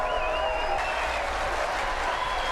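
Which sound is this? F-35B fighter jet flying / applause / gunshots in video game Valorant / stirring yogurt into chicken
applause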